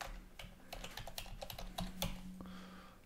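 Computer keyboard keys tapped in quick, uneven bursts while a password is entered during a Windows 10 installation, close and fairly quiet, with a low steady hum underneath and no talking.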